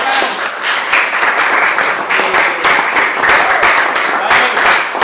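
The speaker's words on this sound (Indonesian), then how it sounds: "Tepuk tangan untuk kelompok" A university physical education class applauds a student group, steady dense clapping from many hands filling the room for about five seconds without a break.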